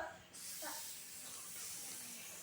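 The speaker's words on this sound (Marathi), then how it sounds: "हवा येते ना गरम गरम कुकरच्या शिट्टीतून बाहेर" A pressure cooker whistle lets out hot steam in a steady, unbroken hiss lasting the whole moment, fairly quiet and with no talking over it.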